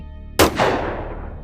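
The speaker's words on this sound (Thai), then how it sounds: "น้อยเลิงขึ้นนก ระเบิดกระสุนทันที" A hunting gun is fired at a wild buffalo in a forest: one sharp, loud shot followed by a long, rolling echo that fades away.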